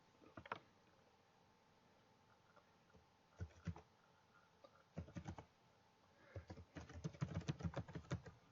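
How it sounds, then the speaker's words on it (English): Keystrokes on a computer keyboard as a username is typed, faint and close, coming in short bursts of clicks separated by pauses, with the tapping growing denser toward the end. "you can type in"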